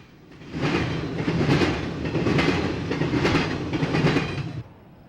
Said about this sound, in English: This train is one of the fastest schedules on Conrail and is right on time through Berea